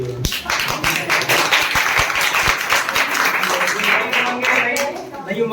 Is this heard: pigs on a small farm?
no